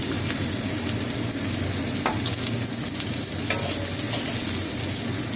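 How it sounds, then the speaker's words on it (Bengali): Chopped onion frying in a little oil in a hot wok, giving a steady, close sizzle and crackle with occasional stirring clinks. "অল্প করে তেল দিয়ে এই পেঁয়াজ কুচোনোটা আমি দিয়ে দেবো, ভাজবো।"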